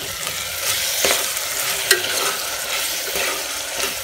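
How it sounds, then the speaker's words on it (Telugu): Chopped tomatoes cook with onions in a pan for an egg and chicken curry, giving a steady close sizzle with occasional spatula scrapes and one sharper clack, alone without speech. "ఇప్పుడు ఇందులోకి కట్ చేసుకున్న 2 టమాటాలు వేసుకుందాం."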